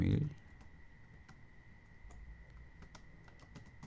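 An email address is typed on a computer keyboard in scattered, light, close clicks of individual keystrokes, quiet and sparse after a brief louder bump at the start.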